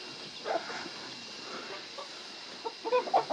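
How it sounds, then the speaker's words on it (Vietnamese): Chickens in a hillside coop clucking softly, scattered faint clucks that grow busier toward the end, heard at moderate distance with no talk. "chú có gà trong chuồng này, gà ngủ bên dưới"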